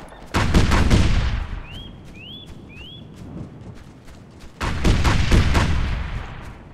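Bursts of rapid automatic suppressive gunfire in the military shooter Flashpoint: Dragon Rising, two dense volleys with a lull between them broken by a few rising electronic chirps.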